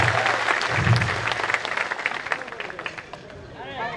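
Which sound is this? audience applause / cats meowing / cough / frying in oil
audience applause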